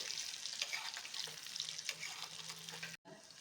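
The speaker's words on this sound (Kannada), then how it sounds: "ಲೋ ಫ್ಲೇಮಲ್ಲೇ ಫ್ರೈ ಮಾಡ್ಕೊಳ್ಳಿ" Paneer pieces fry gently on a low flame with a quiet, steady crackle and faint stirring, then cut off abruptly near the end.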